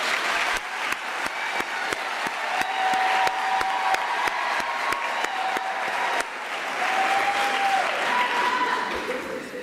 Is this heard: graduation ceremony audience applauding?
yes